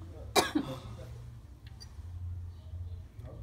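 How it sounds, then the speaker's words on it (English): A person smoking Green Dream OG cannabis gives a sharp, close cough followed by a smaller one, then a low steady background hum. "I always cough when I'm smoking."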